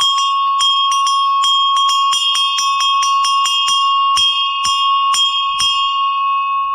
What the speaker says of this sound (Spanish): Y si quieres el sonido de la campana.